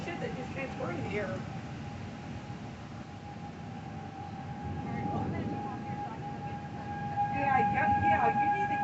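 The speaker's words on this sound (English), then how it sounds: "You hear the sirens?" Tornado warning sirens sounding outdoors, a distant steady wailing tone beneath wind noise, with people talking excitedly over it.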